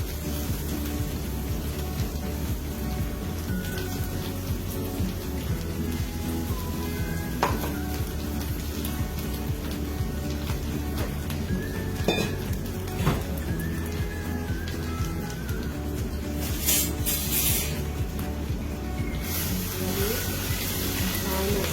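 Spice paste sautés in a pan with a steady sizzle and scraping stirs of a utensil against metal, close and continuous, with a few sharper clinks and bursts of frying near the end.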